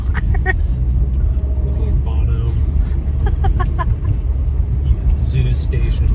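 Car cabin rumble while driving along a road, a steady low engine and road drone heard from inside, with people talking over it and a few brief bright clicks and rattles.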